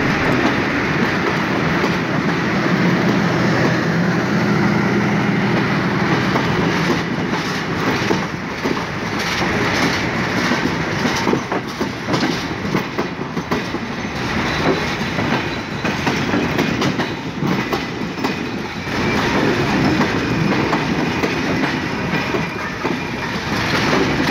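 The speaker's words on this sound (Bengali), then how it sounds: "বন্ধুকে সাথে নিয়ে ট্রেনটি একদম সঠিক সময় ঢাকা থেকে ছেড়ে গেল" Burimari Express passenger train running loud and close on the rails out of Dhaka, a steady clickety-clack of wheels with rumbling carriages throughout, no talk.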